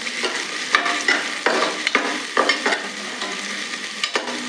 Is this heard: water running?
no